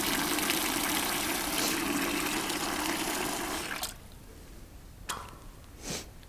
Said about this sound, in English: point the hose away from yourself and start flushing.